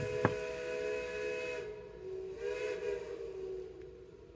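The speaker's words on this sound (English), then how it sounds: "Norfolk and Western is well known for the sound of its steam whistles." A Norfolk and Western steam locomotive whistle blows a sustained, harmonically rich chord with hissing steam around it, starting after a brief sharp click and swelling again midway.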